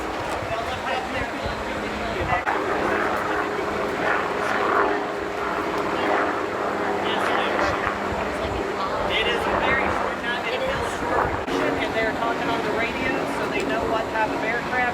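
Aircraft landing on the carrier USS Abraham Lincoln, a loud continuous engine roar and turbine whine filling the deck under steady talk throughout.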